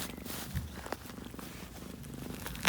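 A cat purrs steadily and close by as she eats from a hand rather than a bowl, with a soft rhythmic rumble and a brief sharper click near the end.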